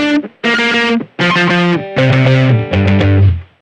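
Guitar processed by hex fuzz distortion on a Boss GP-10 guitar synth, strings panned hard left and right for a stereo spread; five loud, buzzy chords ring out in quick succession, each cut short, with no voices.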